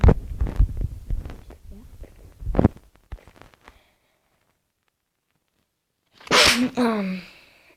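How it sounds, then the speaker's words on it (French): A single sharp human sneeze bursts out near the end, loud and close, after a stretch of scattered clicks and rustling followed by several seconds of near silence. "désolé si j'ai éternué"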